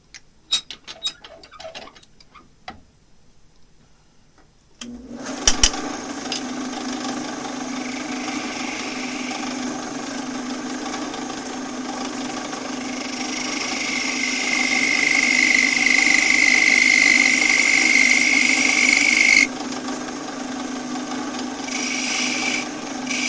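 A wood lathe turns a piece of wood, with a steady whirring drone and rasping tool contact on the spinning workpiece, close and continuous after a quieter start of faint clicks and handling.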